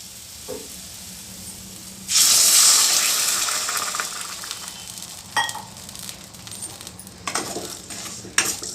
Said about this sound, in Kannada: ಇಷ್ಟು ನೀರು ಹಾಕಿದ್ರೆ ಸಾಕು ಅದು ಪೂರ್ತಿಯಾಗಿ ಬೆಲ್ಲ ಕರಗಬೇಕು